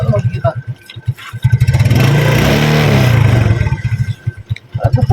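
A motorcycle engine with a weak, run-down battery runs and revs in a workshop. It holds a steady, loud rumble with a mid-clip rise, and people talk over it.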